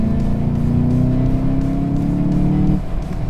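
A loud engine of a VW Jetta GLI 35th anniversary edition revs hard in sport mode and holds a throaty roar before dropping off abruptly near the end, close up with no talking.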